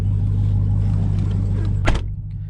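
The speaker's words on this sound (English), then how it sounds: "Closing this door, again, very heavy feeling door." The heavy door of a 2020 Dodge Challenger Hellcat swings shut with a single solid thud, heard from inside over a steady low engine rumble.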